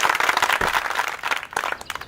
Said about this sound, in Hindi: सुरेश के लिए आप लोग सब तालियां बजाएंगे।